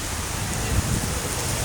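Heavy rain pours down at a petrol pump, making a dense, steady roar of falling water with no pause and some faint low rumbling underneath.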